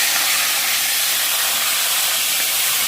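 Washed whole green chillies, slit on each side, frying in oil with black cumin, a loud, steady, close hiss of sizzling oil with no pauses.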